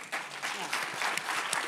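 An audience at an education innovation panel gives a round of applause, an even, sustained spread of clapping with a few sharper claps standing out, and no voice over it.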